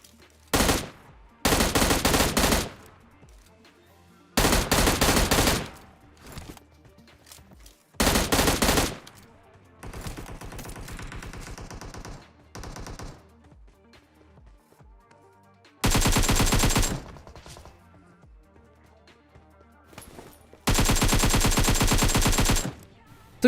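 Bursts of AKM and M16 rifle fire in a video game, several loud sustained automatic volleys separated by quieter gaps with softer distant shots and game noise, no talking.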